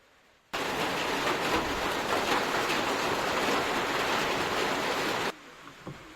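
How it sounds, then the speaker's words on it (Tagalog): Steady rain pours over a rice farm, a dense even hiss that starts abruptly, holds loud and unbroken for about five seconds, then cuts off to quiet with a few faint drips. "At umulan, so maganda rin para madiligan yung aming mga tanim."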